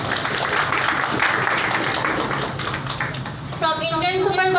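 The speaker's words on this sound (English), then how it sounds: "Let's give them a huge round of applause for being the best institute in the town." Applause for an institute at a speech event, a steady wash of clapping from an audience that fades slightly before a tonal sound cuts in near the end.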